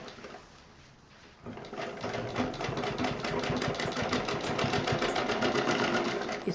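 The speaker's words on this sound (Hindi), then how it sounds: "तो अब हम इस पर डबल सिलाई करना शुरू करते हैं।" A sewing machine runs a double stitch along the seam of a handmade bangle case, starting after a brief pause and then whirring steadily with a fast rhythmic needle clatter, close and continuous to the end.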